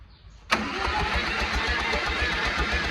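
A wheel loader's diesel engine cranks and fires abruptly, then settles into a loud, steady, rhythmically pulsing idle, close up with no voices.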